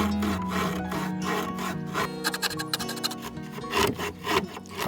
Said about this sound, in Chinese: 小小的锯子承受了太多。